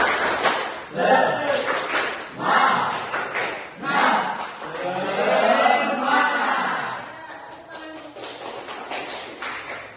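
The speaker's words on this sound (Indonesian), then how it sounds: "Mari sama-sama kita tepuk semangat." Schoolchildren in a classroom perform the rhythmic 'tepuk semangat' spirit clap, with bursts of patterned clapping and taps mixed with the class chanting along loudly in unison.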